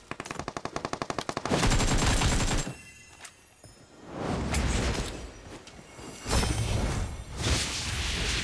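Video game gunfire in a rapid machine-gun burst at the start, followed by several longer, loud stretches of sustained shooting and explosive noise with brief gaps between them.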